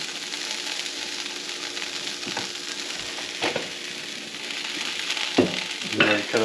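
Steady, loud sizzling of food frying in a pan in a home kitchen during meal prep, a continuous hiss with a few faint clinks of stirring near the end.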